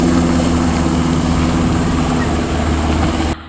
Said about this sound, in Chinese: 空勤直升机立即启动前往救援。